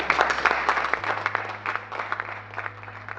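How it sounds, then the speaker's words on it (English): An audience claps for an award winner at a human trafficking seminar at the European Parliament, a moderate, steady round of applause with a low electrical hum beneath it. "please give him a big applause"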